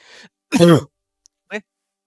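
A few short, sharp coughs, one strong throaty burst followed by a softer one, with silence between them.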